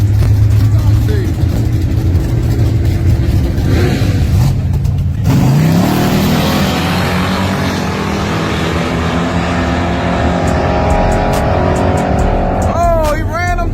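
Cars launch in a street race, engines roaring and revving hard up close, with the roar sweeping past and fading. A crowd shouts and talks throughout, and a whistle-like squeal rises near the end.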